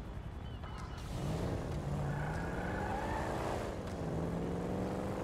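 A Corvette drives in GTA 5, its engine note climbing and shifting as it accelerates, close and steady over several seconds, with no talk.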